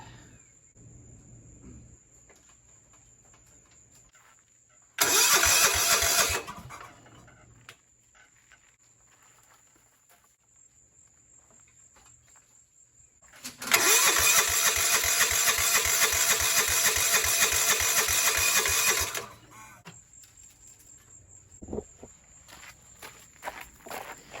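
An old lawn mower engine is pulled over twice after rewiring, each attempt a loud burst of sputtering, rattling engine noise, the second lasting several seconds, separated by quiet stretches with faint background noise.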